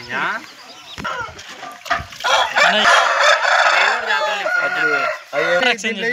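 A fighting rooster being trained for Sankranti cockfights crows loudly and close by, long strained calls with clucking around them, while someone talks over the bird.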